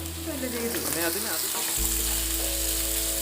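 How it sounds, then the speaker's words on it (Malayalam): Tomatoes and curry leaves dropped into a pan of frying onions for a Syrian Christian-style tapioca and beef rib dish: steady close sizzling that jumps into a louder, fuller hiss as the ingredients hit the hot oil, continuing strongly. "നമുക്കതിലേക്ക് തക്കാളിയും കറിവേപ്പില ഇട്ട് കൊടുക്കാം."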